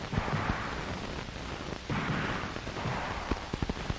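Gunshots from FBI firearms training ring out as a few sharp cracks and pops, scattered over a dense rumbling background, somewhat distant and muffled, with a small cluster of reports near the end.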